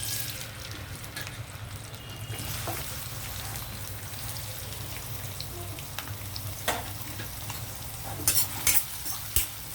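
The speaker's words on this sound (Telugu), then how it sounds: "ఆయిల్ హీట్ అయ్యాక మనం ఆనియన్ వేసేద్దాం." Onions frying in hot oil for a prawn and chana dal curry, a loud, steady, close sizzle hissing throughout, broken near the end by a few sharp crackles and spatters.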